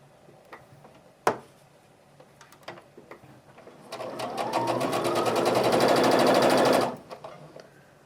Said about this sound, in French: venir et placer mes triangles et les passer à la machine